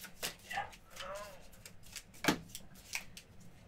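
Playing cards being shuffled during a Gloomhaven board game session, several quick riffling and sliding bursts, fairly quiet and close, with people talking at the table.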